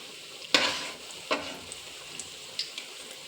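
Dill leaf bonda fritters cook in hot oil over medium heat while being turned in the pan, with a faint sizzle broken by two sharp scraping stirs and a few small pops.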